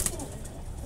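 Soft pigeon sounds from a fancier's loft of pet pigeons, a faint brief coo or flutter under light background noise.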